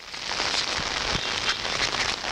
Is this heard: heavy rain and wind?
yes